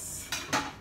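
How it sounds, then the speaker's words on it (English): Two quick clacks of a utensil knocking against a big plastic Tupperware container while ingredients are mixed inside, close and brief, with no talking. "So we're gonna mix all the ingredients here"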